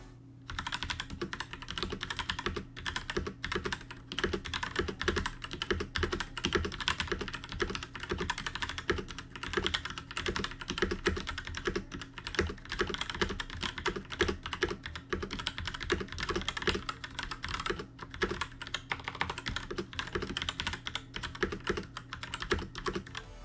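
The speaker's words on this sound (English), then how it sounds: "no keyboard review would be complete without a typing test" Steady, fast clacking of keys on a GAMDIAS Hermes Lite mechanical keyboard, close and crisp, continuing evenly with no voices.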